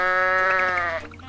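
A goat in the video game Goat Simulator gives one sustained, nasal bleat lasting about a second and fading at the end, loud and close with no talk.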